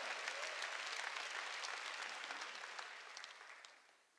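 A congregation at Jesus Center Church breaks into applause during a sermon, quiet and somewhat distant, a sustained patter of many hands that slowly thins out and fades.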